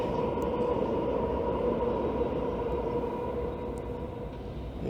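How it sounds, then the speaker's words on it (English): A steady low rumble of a train rolling past, continuous and moderately loud, easing slightly toward the end with no voices. "There goes a train."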